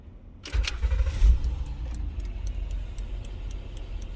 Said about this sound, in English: insert the key into the ignition like so. Turn it to the on position, and then go ahead and start the vehicle